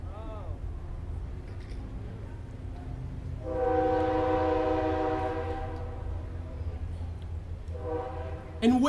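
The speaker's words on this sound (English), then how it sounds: "the train in the background" A distant train in Petersburg, Virginia rumbles steadily while its horn sounds in a long, sustained blast midway, followed by a shorter horn blow near the end.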